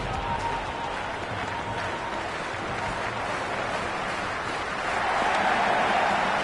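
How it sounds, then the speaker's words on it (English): Stadium crowd in a cricket video game between Rajasthan Royals and Punjab, a broad, continuous roar and clapping wash that swells louder near the end, with faint commentary voice mixed in. "Will you listen to that crowd?"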